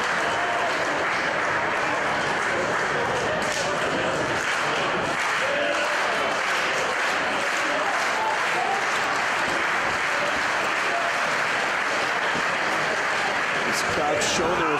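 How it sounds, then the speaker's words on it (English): A wrestling crowd at a CZW show applauding loudly, a dense, sustained roar of clapping that fills the arena for the whole stretch, with a commentator speaking over it. "Crowd showing the respect of both men as Sami Callihan"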